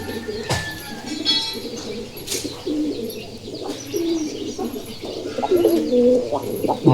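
Giribaz pigeons cooing in a loft, with repeated low, throaty coos overlapping at close range. Brief rustles, faint chirps and background noise sit under the calls, and no one speaks.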